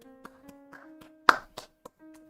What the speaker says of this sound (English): give our regulator another round of applause